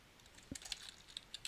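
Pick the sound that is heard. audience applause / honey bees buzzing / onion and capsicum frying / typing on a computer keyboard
typing on a computer keyboard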